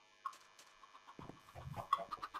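Chicken clucking in the Minecraft video game, a handful of short game-sound clucks in an irregular rhythm, fairly faint and alone without talk.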